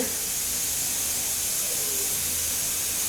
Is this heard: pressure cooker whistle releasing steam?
yes